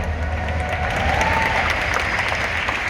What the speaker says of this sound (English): Clap it up for AI Billy.